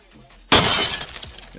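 A treasure item breaks in the MIR4 game: one sudden, loud glassy shatter after a quiet moment, followed by a short trail of tinkling shards.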